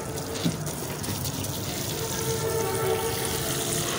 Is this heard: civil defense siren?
no